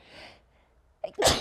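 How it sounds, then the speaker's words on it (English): A single loud sneeze with a sharp intake just before it, preceded by a brief murmur of background sound. "I sneeze so much."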